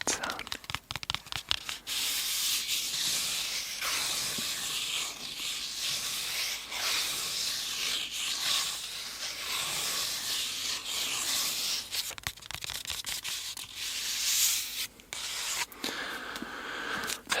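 Continuous dry scratching with fingertips against a Stephen King book spine, close to the microphone, with quick sharp scrapes at the start and end.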